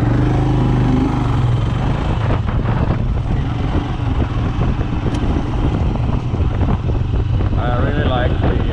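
Motorcycle idling with the rider's visor down and windsocks off, a steady close low engine rumble mixed with wind buffeting that runs unbroken throughout.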